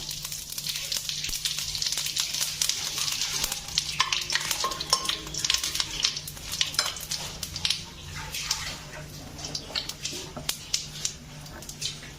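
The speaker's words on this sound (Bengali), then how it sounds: "তাই আমি এখন জিরে ফোড়ন দিয়ে দিলাম।" Cumin seeds crackle and sizzle in hot oil in a pan. A dense, steady hiss is broken by frequent stirring clinks and scrapes of a utensil, and a low hum runs underneath.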